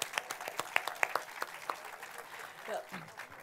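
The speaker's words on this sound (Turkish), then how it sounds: "Alkış, başkanımıza alkış." A live audience claps during an outdoor talk event, with a burst of sharp, scattered claps that fades after a couple of seconds while a voice speaks over the end.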